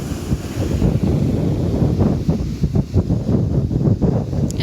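Ocean waves wash in steadily at a beach, a constant rushing surf heavily buffeted by loud wind noise on the microphone.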